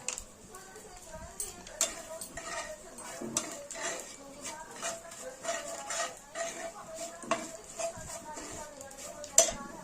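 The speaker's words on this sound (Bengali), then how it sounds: "পোস্তটা দিয়ে আমরা হালকা করে ভেজে নেব যাতে পোস্তর কাঁচা গন্ধটা না থাকে।" Cashews and poppy seeds fry in a pan while a utensil stirs and scrapes, giving irregular clinks and taps close by with a soft sizzle beneath, and a person talks over it.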